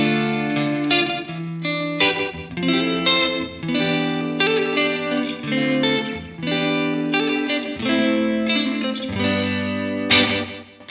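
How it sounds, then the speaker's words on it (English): Electric guitar runs through an analog reverb with a lo-fi, old karaoke machine character from an Alexander Space Force pedal, chords ringing out in a washy, slightly chorused tail, played alone without talk. "I have an analog reverb, which is, it's like an old karaoke machine."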